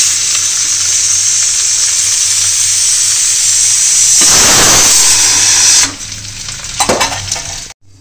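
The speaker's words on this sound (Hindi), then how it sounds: "प्याज और जीरा फोरन दे दी हम हैं और भिंडी डाल देते हैं" Onion, cumin and okra sizzle steadily in a hot frying pan, a loud, close, continuous hiss that surges as the pan is stirred, then drops away into softer clinks and scrapes at the end, with no voices.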